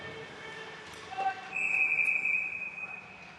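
A referee's whistle blows during an ice hockey game, one sharp sustained shrill blast lasting about a second, heard over rink crowd noise and a commentator's voice.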